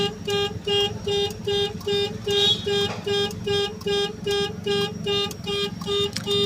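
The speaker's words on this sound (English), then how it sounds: "Even the alarm is complaining." A 2010 Honda Stream car alarm blares in steady repeating pulses, loud and close, cycling evenly about twice per second over a low engine-like hum.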